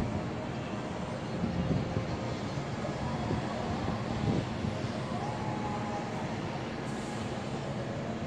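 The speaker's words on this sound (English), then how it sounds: "But sometimes it gets noisy. The trains come by." A train rolls past near Coney Island, heard from a terrace as a steady, broad rumble with a rising hiss that stays loud and close for the whole stretch, with no talk.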